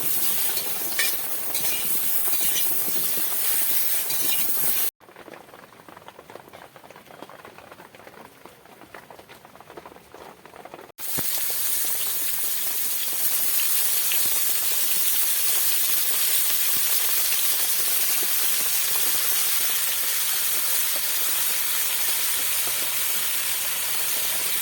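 Monsoon rain falls outdoors near a small, cramped cooking spot with a wood-fired clay stove, a steady dense hiss that drops quieter for a stretch before returning at full strength; no one speaks.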